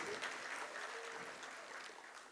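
An audience at an annual school mega showcase breaks into steady, dense applause, a continuous wash of many hands clapping at moderate distance with no voices over it.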